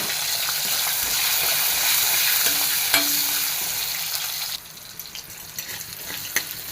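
Toor dal, shallots and garlic frying in a pan, a steady broadband sizzle with stirring scrapes that drops to a quieter crackle partway through; no talking.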